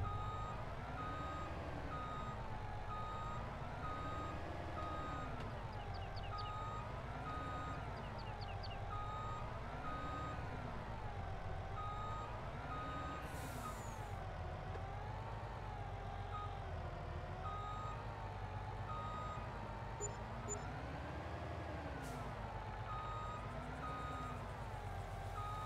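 Truck reversing beeper in Farming Simulator 22, a steady evenly spaced beep repeating throughout over a continuous engine drone while the truck maneuvers, with no talking.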